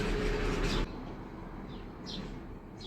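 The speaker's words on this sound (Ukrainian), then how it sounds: "Пташки співають." Small birds chirp on a sunny autumn morning in a town, a few brief high calls sounding at a distance over steady outdoor background noise after a louder rumbling opening.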